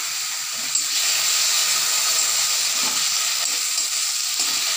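Ground spice paste hits a pan of fried onion and garlic with a steady, bright sizzle and hiss that holds close and loud throughout, with no voices.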